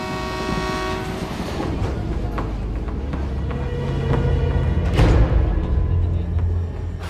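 A train arrives at a station with a loud, close rumble of wheels and carriages, horn tones and rhythmic clatter, swelling toward the end; voices are mixed in beneath the rail noise.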